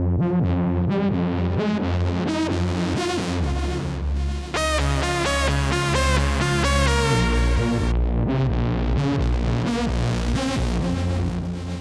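A thick, warm Diva analog-style software synthesizer plays sustained chords and melodic lines over a deep bass, loud and continuous with no voices.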